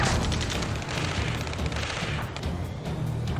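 Gunfire in Ace Combat 7 Skies Unknown: a dense, continuous stretch of rapid shots and rumbling booms, loud and close throughout, with no speech.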